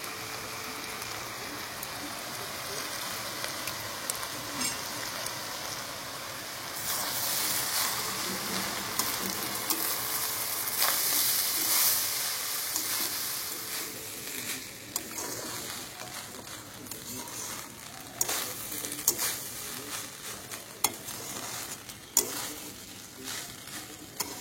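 Ghee and soy sauce sizzling and frying with red rice in a pan, village-style cooking, a steady close crackle that swells louder midway, with occasional stirring scrapes and clatter.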